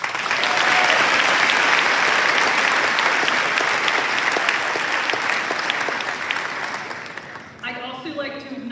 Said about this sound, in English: Please offer a round of applause for all these students who are working to finish up remaining requirements